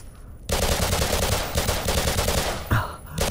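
Rapid sustained automatic gunfire in a video game rattles loudly and continuously, breaking briefly before a final burst.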